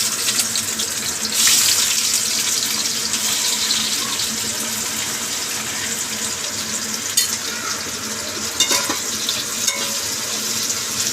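Chopped onions frying in hot oil in a pan for a home-cooked chicken dish, giving a steady, fairly loud hiss and sizzle throughout with occasional brief clinks and stirring noises, no voices.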